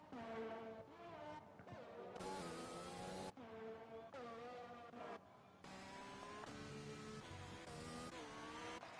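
F1 2020 race cars scream by on the Great Britain track, their high whining engines rising and falling in pitch through shifts as several cars pass in succession, loud and continuous.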